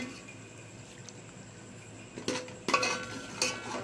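Karahi chicken being served out of the pan into a dish: a few sharp metallic clinks and scrapes of a serving utensil against cookware over a quiet kitchen background.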